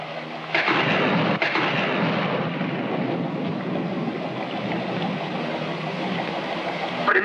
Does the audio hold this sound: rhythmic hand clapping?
no